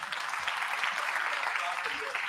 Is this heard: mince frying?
no